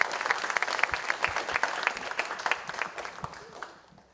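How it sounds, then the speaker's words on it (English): An audience at a symposium claps in steady applause, dense with individual hand claps at first, then thinning and fading out toward the end. "Can we get one more round of applause for Keke?"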